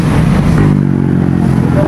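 A Yamaha Aerox motor scooter engine runs loudly nearby with a steady buzzing idle hum and a brief rev early on, close to the listener, with people talking over it.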